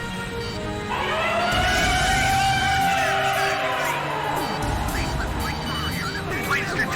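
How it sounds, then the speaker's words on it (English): Air raid sirens wailing in the video game Ace Combat 5, a loud rising and falling siren tone sweeping over dense background game noise and rumble, continuous throughout. "Sound the air raid sirens."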